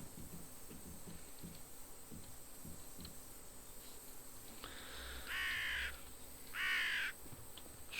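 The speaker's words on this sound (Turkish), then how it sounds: "karga var ya şu karga" In the zombie survival game The War Z, a crow gives two harsh caws near the end over a steady background of insect buzz and faint ambient hum.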